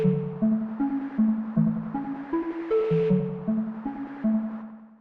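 An Omnisphere synthesizer textured keys patch plays a stepping melodic line, each note trailed by echoing delay repeats and a soft washy texture.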